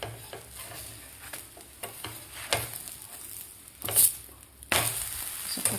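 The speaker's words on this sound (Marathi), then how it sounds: "आपण आता धपाटं पलटी करून घेऊया." Spinach dhapata sizzling on a pan after being flipped, a low steady frying hiss broken by soft clicks and a couple of louder scraping bursts, with no talking.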